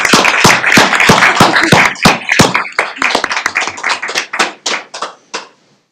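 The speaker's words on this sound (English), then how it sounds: "I think we should give him a clap" A room full of people at a county board meeting claps for a retiring official, a dense burst of applause that thins into scattered, slower claps before stopping.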